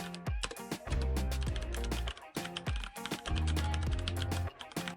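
Quick fingers type on a computer keyboard, producing dense, irregular runs of crisp key clicks with brief pauses between bursts, close and clear with no talking.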